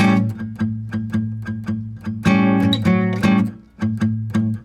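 Acoustic blues guitar plays through 12-bar blues measures, a steady rhythmic pattern of repeated plucked bass notes and chords, with a brighter strummed flourish in the middle, close and clear with no talking.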